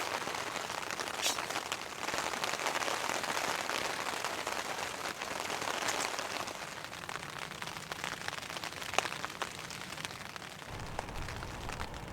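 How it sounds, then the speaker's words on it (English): Heavy rain pours steadily on a winter campsite in high winds and ice, a dense continuous patter on surfaces lasting throughout with no voices, loud and close. "The rains are not going to stop until after sunset"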